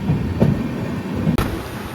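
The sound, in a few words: moving train, clickety-clack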